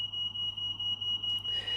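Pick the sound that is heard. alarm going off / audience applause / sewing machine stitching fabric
alarm going off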